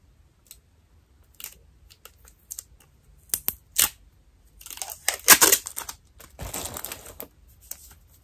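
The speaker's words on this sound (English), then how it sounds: "I gotta take the tape off." Tape being peeled off a skincare package, heard as a series of close, sharp ripping and crinkling bursts that grow denser toward the end, separated by brief quiet gaps.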